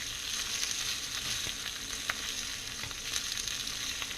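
Vegetables frying in oil, a soft, even hiss of sizzling with a few faint stirring ticks, moderately quiet and close, with no voices.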